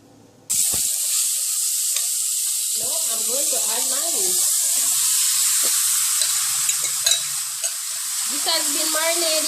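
Pork marinated for two hours hits a hot pot and sizzles loudly, a dense, continuous hiss running throughout, with the clatter of stirring and a voice talking faintly underneath.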